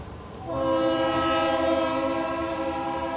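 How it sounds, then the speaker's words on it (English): A loud train horn blares near a baseball field, a sustained, harmonically rich tone that swells in and holds steady as the train passes close by. "And you can hear the train here."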